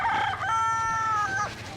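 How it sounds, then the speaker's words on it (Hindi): Roosters crow in a village house area of Birir Valley, a Kalash tribal settlement in Chitral; one long, loud, close crow with a rising start and held wavering note, alone without talk. "ऐसी मुर्गों की आवाज़ें, परिंदों का चहचहाना"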